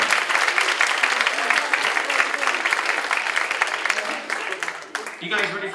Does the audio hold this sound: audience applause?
yes